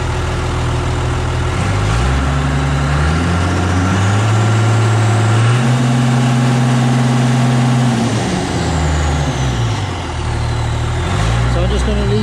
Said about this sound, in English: The tractor's only idling cold.